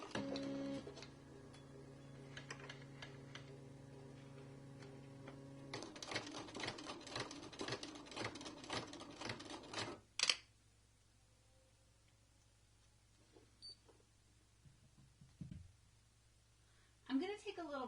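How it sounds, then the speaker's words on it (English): A home embroidery machine stitches fabric onto a zipper for an in-the-hoop zippered pouch, giving a steady, close mechanical whirring with rapid repetitive needle clatter for about ten seconds, then stopping, followed by quiet with brief handling noises. "now I'm going to start my next round of stitching to secure the fabric to the"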